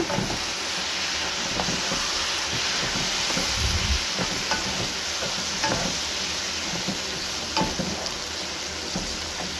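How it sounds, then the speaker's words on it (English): Fried rice sizzling loudly in a pan as soy sauce goes in, with steady frying hiss and repeated scraping stirs of a utensil against the pan. "At this time, let's add our soy sauce."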